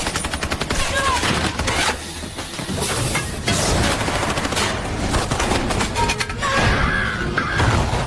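Automatic gun traps and bombs in the 2011 film The Mechanic go off in long loud bursts of rapid gunfire mixed with heavy blasts and crashes, dense and close, briefly pausing between volleys.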